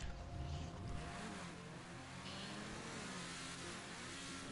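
A car engine revs steadily in Grand Theft Auto V, a continuous mid-pitched drone with a brief surge near the start, heard alone and fairly faint.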